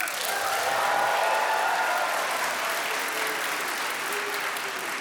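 Loud, sustained applause from a live Town Hall audience in Seattle, clapping for saying "soda," a thick, even roar of hands with faint voices mixed in.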